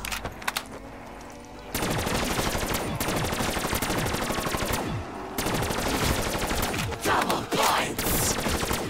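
Sustained rapid automatic gunfire in Black Ops 3 Zombies on The Giant map, a dense, loud, close stream of shots that cuts in after a quieter opening and runs nearly continuously with brief pauses.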